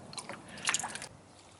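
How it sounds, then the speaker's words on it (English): Water sloshing and squishing into a Honeycrisp or Gala apple tree planted in a 20-gallon storage container with coco coir mix, a brief wet splash of about a second that fades out, no voices. "Now all we have to do"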